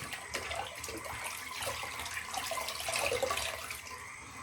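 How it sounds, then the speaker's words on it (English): Water runs steadily from a tap while a straight razor is rinsed under it, a close, continuous splashing hiss with small surges, no talking. "Let me do a little rinse here."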